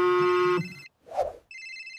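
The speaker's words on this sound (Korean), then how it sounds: "엄마에게 전화를 걸었습니다." A telephone rings with a steady electronic tone that cuts off, followed by a brief soft thump. The ringing then resumes, clear and close, with no talking.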